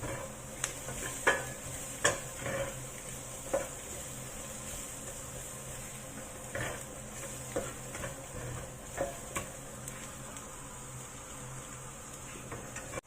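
Pan frying before pork belly goes in: a steady low sizzle with scattered sharp ticks and scraping stirs at irregular intervals, close by, with no talking.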